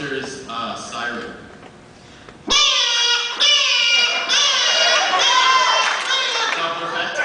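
A man vocally imitates the Ghostbusters siren, a loud wavering wail held for several seconds after a short stretch of talk.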